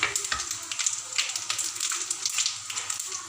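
Onions fry in a pan with garam masala added for a home-style bhuni moong dal, giving a steady crackling sizzle with brisk, uneven pops and occasional stirring scrapes, fairly close.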